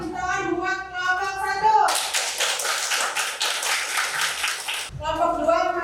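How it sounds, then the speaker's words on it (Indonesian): Students in a classroom clap for a student group during a lesson, a burst of dense applause lasting about three seconds between stretches of an adult speaking. "Kita beri tepuk tangan buat kelompok"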